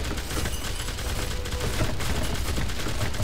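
Cannon fire in a Minecraft-style sandbox game, heard as a dense, loud barrage of booming blasts with rapid cracking impacts running continuously, with no talk over it.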